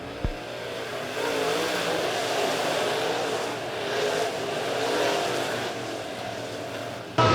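Late model race cars roar as they accelerate at the green flag, a dense pack of engines droning and surging, loud and steady, with a sharp knock near the start.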